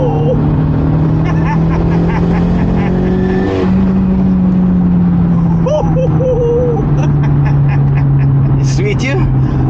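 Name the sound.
turbocharged Audi B5 car accelerating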